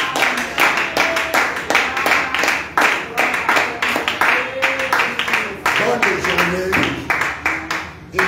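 Congregation clapping in steady rhythm at a morning prayer service, repeated hand claps throughout, loud and close, with voices singing or talking over them.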